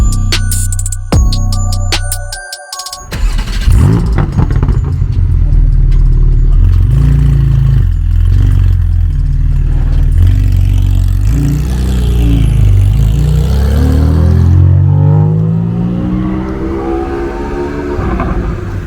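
A Porsche Cayman GT4 with a Dundon Motorsports exhaust revs loudly up close: a sharp blip and crackle, then a sustained roaring climb and repeated rises in pitch before settling.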